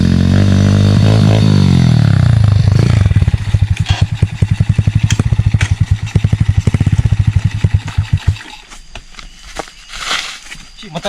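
A motorcycle engine revs loudly up close, then settles into a rapid, rhythmic chugging idle before fading into clattering noise.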